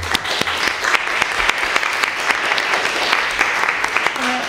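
An audience applauds at a prize ceremony for a children's postcard contest in Gandia. The clapping is loud, dense and continuous from start to finish, with no break.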